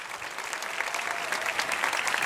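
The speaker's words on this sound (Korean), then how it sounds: "다시 한번 큰 박수 부탁드립니다" Church congregation applauding at a Friday worship service during a scripture recitation festival, steady dense clapping throughout at moderate loudness, with no voices above it.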